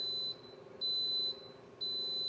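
A pressure cooker cooking oxtails signals it is done with three steady, high electronic beeps in an even rhythm, clear and fairly close in a quiet kitchen.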